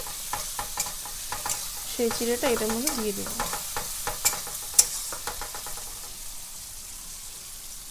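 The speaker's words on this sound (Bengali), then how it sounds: "এটা এবার ভালো করে ভাজবো, আমরা ভাজা ভাজা করে নেবো হালকা।" Steady crackling sizzle of ingredients stir-frying lightly in a pan for flattened-rice pulao, with scraping spatula strokes throughout and a voice speaking briefly partway through.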